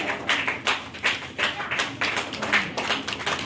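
Scattered audience clapping at a community ceremony: uneven, fairly sparse claps in loose bursts, close and moderately loud, with no talk over them.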